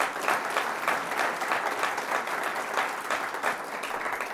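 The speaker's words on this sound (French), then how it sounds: "et vous pouvez applaudir." A crowd at a European election political rally in Lille applauds with dense, steady clapping that swells in gentle waves, loud and continuous without any talking.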